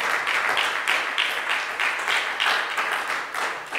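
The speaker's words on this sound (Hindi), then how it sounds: "मारो जोर से ताली यीशु के नाम में" A church congregation claps loudly together in a steady, rhythmic beat at a worship service, the dense clapping filling the whole moment without speech.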